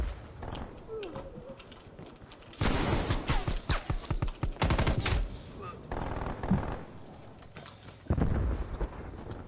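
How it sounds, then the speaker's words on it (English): A hostile sentry turret in a video game opens fire in rapid, dense bursts over a busy game mix of music and effects, with a voice talking through parts of it. "Hostile sentry turret active"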